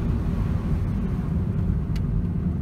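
A Citroën C-Elysée engine runs with a steady, loud low rumble under gentle throttle, heard from inside the car while driving on a road.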